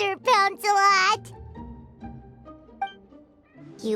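A cartoon cat in the video game Genshin Impact, during the Fantastic Felines event, gives two loud, close, drawn-out meows in quick succession, followed by quieter game background sound.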